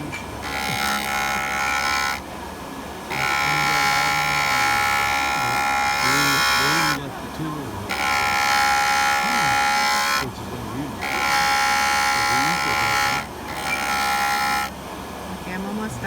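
A polishing tool buffs scratches off an amethyst still in its setting, a loud, close, steady whine running in long bursts and switching off in short pauses, with a voice talking underneath.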